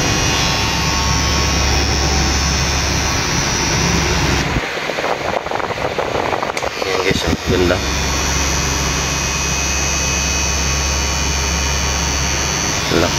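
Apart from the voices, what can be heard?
HIENA S-11 detailer hair trimmer motor running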